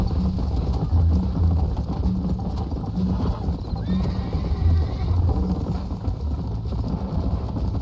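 Horse hooves pounding in a steady galloping rhythm in Red Dead Redemption, with a whinny and continuous low rumble, loud and close throughout.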